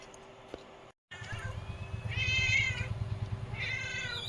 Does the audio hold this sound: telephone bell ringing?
no